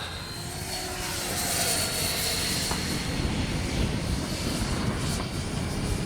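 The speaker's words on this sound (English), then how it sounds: "Fun little jet." A Freewing 70mm Yak-130 RC model jet flies by with its landing gear down, a steady rushing electric ducted-fan whine at moderate distance that swells slightly and holds.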